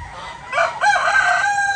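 A Texas Asil rooster crows once nearby, loud and clear, its call rising and holding before trailing off.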